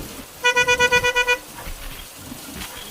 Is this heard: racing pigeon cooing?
no